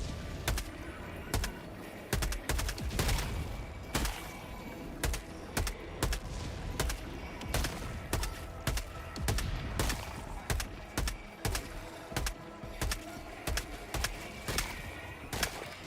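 Gunfire in Helldivers 2 rings out as a steady series of sharp shots, roughly one every second, each cracking loudly over a low continuous game rumble.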